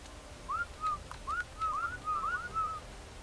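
A whistled command to send tamed creatures to attack in the video game Ark, several short rising and falling chirps in quick succession, clear over a quiet background.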